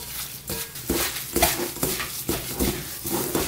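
Chungmu gimbap seasoning of red pepper flakes, sugar, chopped green onion and minced garlic being kneaded and mixed by hand in a bowl, with soft irregular squelching and rubbing sounds repeating close up.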